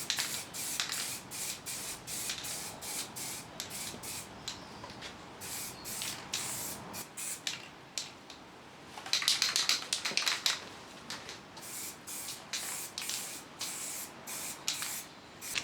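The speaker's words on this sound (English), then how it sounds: "I've used Rust-Oleum spray paint as it is quick drying and will be touch dry in 10 minutes." Rust-Oleum spray paint, first primer and then a black satin coat, is sprayed onto a metal truck bed load extender in repeated short, close hissing bursts with brief pauses between them.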